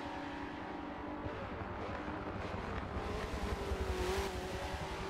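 Race car engine from a racing video game, the number 24 BMW M6 of Team RLL, roaring steadily with a rising rev sweep near the end, loud and continuous with no talking.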